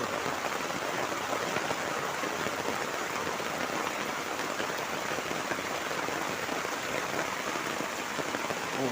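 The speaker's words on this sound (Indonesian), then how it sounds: "hujannya kecil" Light rain patters steadily and evenly on surfaces around a village path, a soft continuous hiss with dense small drops and no voices.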